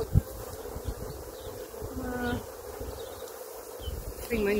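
Honey bees buzzing around an opened National beehive during an inspection, a constant close hum of many insects with occasional individual bees droning past and faint handling knocks, no speech.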